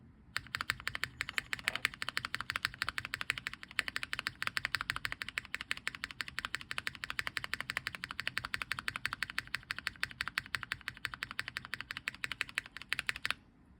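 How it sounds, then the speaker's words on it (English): Rapid, even typing on a keyboard with vintage Cherry MX Black mechanical switches, a dense run of crisp clacks close to the microphone that lasts about thirteen seconds and then stops. "the Vint spacebar sounds a lot more consistent"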